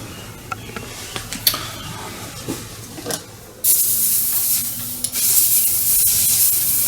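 Sporadic light clicks and taps give way to an airbrush hissing paint onto a StuG III Ausf. G scale model, with two sustained bursts of bright, close spray separated by a brief break.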